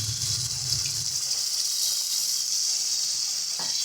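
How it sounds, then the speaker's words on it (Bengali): Water poured into sizzling curry gravy in a pan for a fish fritter curry made with Bombay duck (lote fish), a steady close hiss and sizzle with no talk. "চলো এবারে দিয়ে দিচ্ছি পরিমাণ মতন জল"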